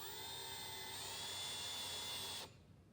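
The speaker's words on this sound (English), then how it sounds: "So now she's gonna put those 2 screws in." A screw gun drives screws into a wooden bench with a steady high-pitched whine that holds for over two seconds, close and loud, then cuts off abruptly into near quiet.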